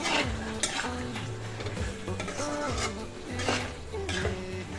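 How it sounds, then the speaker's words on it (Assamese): Broiler chicken meat cooks with sesame in a pan on a gas stove. A spoon stirs and scrapes the pan steadily over a soft sizzle, close up with no talk. "এতিয়া গেছটো অকণমান বঢ়াই দিওঁ। মাংস সিজিয়ে গৈছে, খাব পৰা হৈ গৈছে মাংস।"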